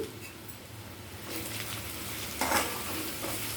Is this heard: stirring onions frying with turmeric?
yes